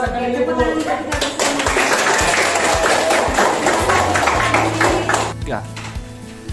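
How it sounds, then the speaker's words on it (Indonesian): A classroom of students claps together, a dense burst of hand claps with knocks and taps mixed in, close and fairly loud, with voices talking over parts of it. "tepuk tangan kita bersama."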